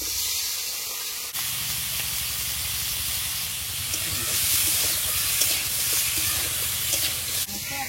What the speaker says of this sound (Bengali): মাথায় লবণ হলুদ মাখিয়ে নিচ্ছি, মাথাটা তেলে ভেজে নেব